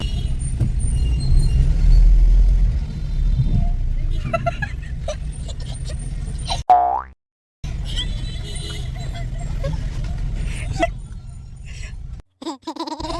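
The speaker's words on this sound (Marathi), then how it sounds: "आता समोरून आमच्या घरच्यांची गाडी आलेली आहे" A family's car draws up on a road near a temple, its engine rumble steady and close beneath chatter and laughter, with a brief hiss like an air brake partway through.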